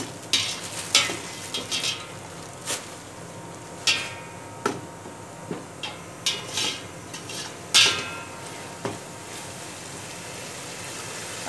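A spoon stirs whole spices, cinnamon stick and dried lemon, in a cooking pot for beef yakhni pulao, giving soft sizzling under a series of sharp metallic scrapes and clinks at irregular intervals.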